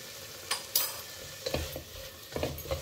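Spinach sautés in a pan with a soft sizzle, and a spoon stirs it in short scraping strokes that repeat every second or so. The sound is close and moderately quiet, with no voices.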